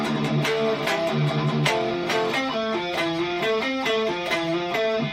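A distorted electric guitar plays a steady melodic run of single notes, fairly loud and alone, with no voices.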